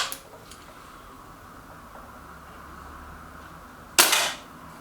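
An Artemis M11 .22 air rifle fires a single pellet with one sharp, loud crack near the end, following a few seconds of faint background hiss.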